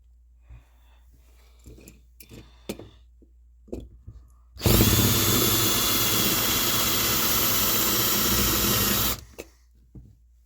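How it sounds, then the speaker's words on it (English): A power drill roars loudly for about four seconds, a steady high-pitched grinding whine, drilling out rivets on a 1989 Dodge D-150 pickup, after some scattered clicks and clatter; it then cuts off abruptly. "we have to drill out these 3 rivets, and we are going to do that with a drill"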